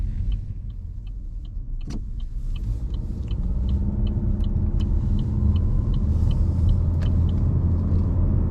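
A 2024 Chevy Malibu RS with a CVT transmission drives along, a steady low cabin rumble of engine and road noise that builds slightly, with a repeating faint ticking and a couple of sharp clicks inside the car.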